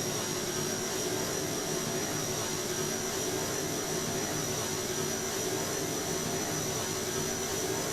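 A propeller aircraft engine in Kerbal Space Program runs steadily at high throttle, a loud, continuous broadband roar with a constant droning tone and no change in pitch.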